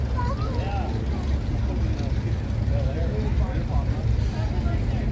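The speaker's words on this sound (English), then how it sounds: "I just filmed him running that loud ass car." A loud car engine runs at a Cars and Coffee gathering in Olds, Alberta, with a steady, heavy low rumble that holds throughout while people talk over it.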